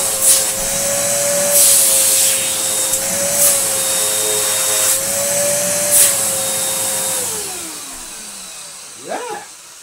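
A bagless 4,000-watt vacuum cleaner runs loud and steady close by, a constant motor whine with airflow roar, then winds down toward the end as the motor spins off.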